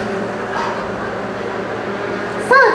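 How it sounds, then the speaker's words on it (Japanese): A dog gives a single short, high bark near the end, heard over a steady background hum at the Super Formula race-queen stage at Fuji in 2021. "ワンちゃんも楽しみにしてくださってるみたいです。"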